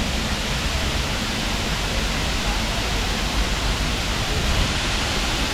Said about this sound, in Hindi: और पानी का शोर सुने आप, मज़ा आ जाएगा आपको।